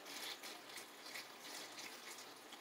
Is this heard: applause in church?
no